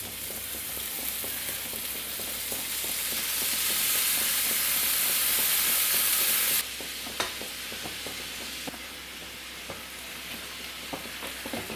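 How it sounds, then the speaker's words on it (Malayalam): Fish frying in hot oil in a pan for a home-style Kerala lunch, a loud, continuous crackling sizzle that swells and then drops to a steadier hiss partway through, with scattered pops. "എണ്ണ ചൂടായിട്ട് വരുമ്പോൾ ഇതിലേക്ക് നമുക്ക് മീനിട്ട് കൊടുക്കാം."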